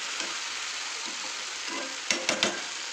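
Dried fish and vegetables cooking with spices in a pan, a continuous crackling sizzle with a few louder scraping stirs clustered near the end, close and with no voices.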